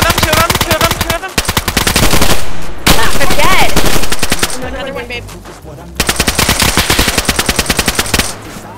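Rapid automatic gunfire in the video game DayZ, long bursts of loud, close shots with brief pauses between volleys and some faint distant pops.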